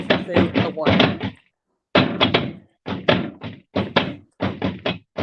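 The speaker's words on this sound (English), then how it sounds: "just slapping the doors and the Mieles for no reason" Someone slaps the doors of Miele washing machines in a rapid, irregular series of hollow thumps and knocks, loud and close, grouped in short bursts with brief pauses between.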